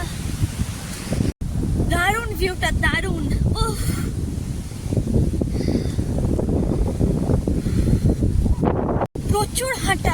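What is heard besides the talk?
strong wind on the coastal path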